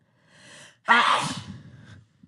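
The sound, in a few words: sneeze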